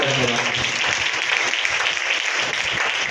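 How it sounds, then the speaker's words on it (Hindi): A church congregation applauds in thanks to God during worship, a dense, steady wash of clapping hands that fills a short stretch evenly. "ताली बजाकर प्रभु का धन्यवाद।"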